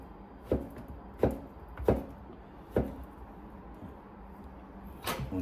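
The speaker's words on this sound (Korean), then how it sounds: "무를 썰어 볼 겁니다." A knife cuts through radish on a board in a home kitchen, making four or five separate crisp chops spaced about a second apart, close by and fairly quiet, with no voices.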